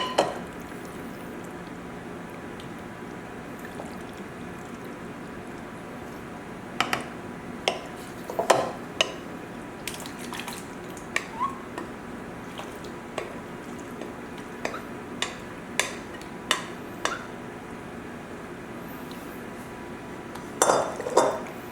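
Ziti pasta for an old-school baked ziti goes into a casserole dish, with scattered soft clinks and scrapes of a utensil against the dish and a few louder knocks, over a quiet room hum.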